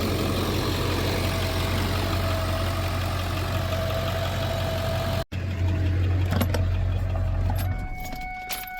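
A hotshot pickup truck idling while it charges its battery, a steady close low engine drone that briefly cuts out midway, then resumes before fading slightly, with a few faint clinks, no talk.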